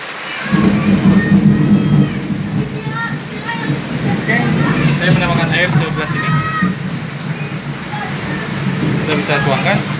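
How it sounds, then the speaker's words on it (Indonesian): Rain falling in Bogor during home cooking: a continuous wash of heavy rain with low rumbling thunder beneath, steady and fairly loud, while a person talks over it. "saat ini sedang terjadi turun hujan di Kota Bogor ini"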